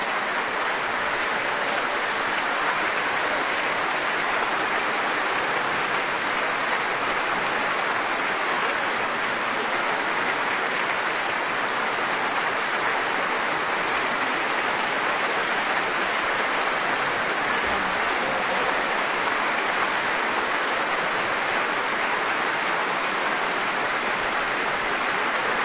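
Sustained, dense applause from a concert-hall audience at a Sunday morning concert, a steady broadband clatter of many hands that holds at an even level without pause for the whole stretch.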